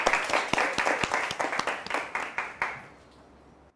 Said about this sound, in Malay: Bagi tepukan dekat kawan kamu.